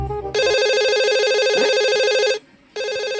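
An electronic telephone ring sounds in an Odia comedy scene: a loud, steady warbling tone that runs for about two seconds, breaks off briefly, then starts again. It is close and clear, with no talk over it.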